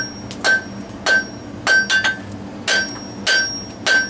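Sharp metallic hammer blows ring out on a blacksmith's anvil, driving down a piece of a leaf spring. The strikes land in spaced clusters of one or two, each with a bright ringing tone, close and loud.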